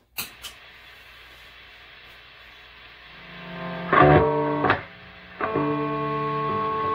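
Steady hiss and hum from an ungated high-gain EVH 5150III 50W Stealth guitar amp, with a few harsh distorted chord stabs bursting out of the noise.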